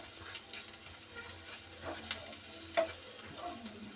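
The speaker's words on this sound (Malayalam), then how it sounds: "ഈ പൊടി ഇതിൽ കിടന്ന് ആ പച്ച ഒന്ന് മാറി തരട്ടെ നല്ലതുപോലെ ആ പച്ചപ്പൊന്ന് മാറുന്നത് വരെ ഇളക്കി കൊടുക്കുക" Spice powder stirred and fried in a pan as it loses its raw smell, soft close scraping strokes and a quiet sizzle with a few sharper clicks, no talk.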